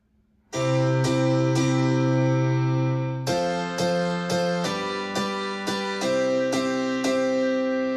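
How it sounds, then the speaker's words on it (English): A Korg M1 electric piano-style synth plays sustained chords alone, with bright struck attacks repeating every half second or so, ringing and layered. "piano, and again you've got the Korg M1 piano, which sounds like this."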